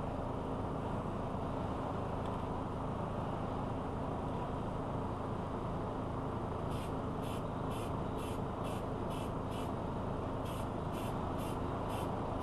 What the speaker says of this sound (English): And spray paint.